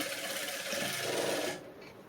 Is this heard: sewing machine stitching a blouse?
yes